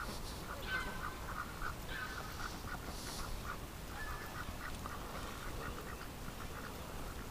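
Muscovy ducks being herded toward their pen give a few scattered quacks, fairly faint against a constant outdoor background hiss.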